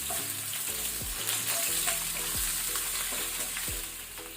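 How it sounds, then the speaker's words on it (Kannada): Ginger garlic paste frying in a pan for rajma masala gives a steady, close sizzle, with a few soft scrapes of stirring scattered through. No one speaks. "ಅದನ್ನು ಸಹ ನಾವು ಫ್ರೈ ಮಾಡ್ಕೊಳ್ಬೇಕು, ರಾ ಸ್ಮೆಲ್ ಹೋಗೋ ತನಕ, ಹಸಿ ವಾಸನೆ."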